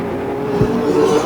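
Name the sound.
vintage modified race cars racing at Flamboro Speedway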